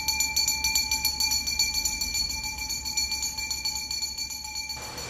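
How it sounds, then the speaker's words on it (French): A hand bell rung by garbage collectors in Mexico City clangs in a fast, steady rhythm, loud and close with bright, ringing overtones, stopping abruptly near the end. "Cette cloche annonce l'arrivée du camion à ordures."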